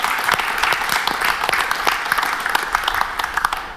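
Church congregation applauding after a women's choir sings, dense steady clapping from many hands that holds for several seconds at close range without speech.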